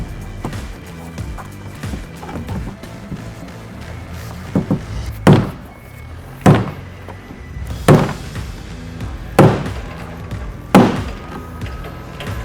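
A fuel tank lock ring on a Mercedes Sprinter's 47-gallon replacement tank takes about six sharp, evenly spaced hammer hits, each a solid metallic thunk standing out clearly against a quiet background.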